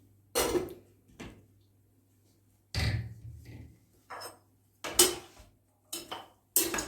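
Bean stew being served onto plates, with sharp separate clinks and knocks of spoon against dishes, several spaced bursts over a quiet background.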